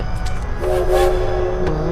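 A train in the Death Park horror video game: rumbling rail noise with a loud, steady horn or whistle tone that rises and holds, close and prominent.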